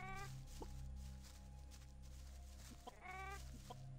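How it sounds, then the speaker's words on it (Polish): Chickens cluck in the Gothic video game, where pursuing enemies make chicken sounds: faint repeated clucks and short squawks over a steady low hum, with two clearer bursts near the start and after the three-second mark. "Słyszę, jak mnie gonią. Ty, oni mają dźwięki kurczaków."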